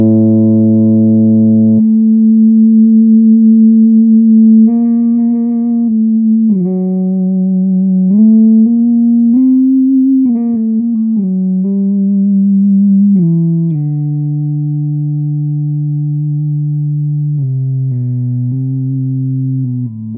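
An electric guitar fitted with an electromagnetic sustainer and run through effects holds smooth, bowed-like legato notes with no attack. The tones glide from pitch to pitch and ring on, loud and unbroken, for the full length.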